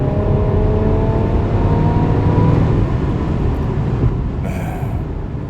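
A 2021 Mercedes-Benz E350 4Matic AMG Line engine drones loudly and steadily, its pitch climbing slightly as it accelerates, then easing off near the end.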